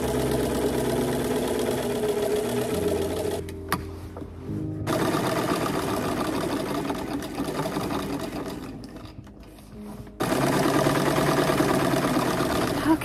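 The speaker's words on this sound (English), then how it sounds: "I'm probably just going to machine baste the rest of my silk organza interfacing to the skirt" A sewing machine runs steadily, machine-basting silk organza interfacing onto a skirt. The motor drones almost continuously, pauses briefly twice, then resumes loudly near the end.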